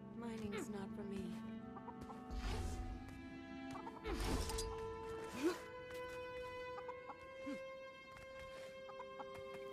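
Chickens cluck on a bakery roof in the video game Guild Wars 2, with several soft bursts of clucking and squawks over a steady tonal game music bed.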